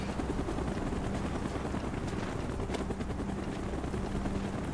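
Helicopters in the video game Call of Duty: Black Ops give a dense, continuous rotor thrum with engine roar. It stays loud and close throughout, with no speech.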